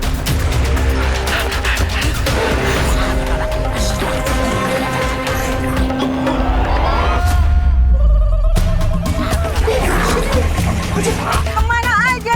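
A mobile phone rings amid busy, loud background sound, its tone repeating through the clip, with voices talking and an abrupt change in the mix midway.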